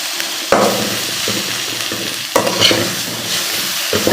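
Tomato, onion and green chilies being sautéed in a pan for a mushroom gravy, with a steady sizzle punctuated by three sharp stirring scrapes, close and alone.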